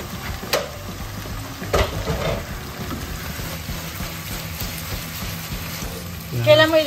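Shrimp for drunken garlic shrimp cook in a pan over high heat with a steady sizzle. Several soft clatters break in, and a louder splash or burst of sizzling comes near the end.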